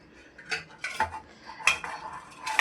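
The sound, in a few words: stirring and ladling kuzhambu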